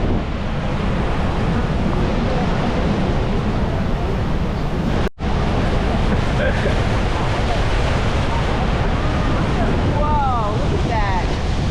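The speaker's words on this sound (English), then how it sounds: "It's so windy up here." Strong wind roars and buffets over open water at Niagara Falls on a Maid of the Mist boat tour, loud and constant, with waves and a brief exclamation from a voice.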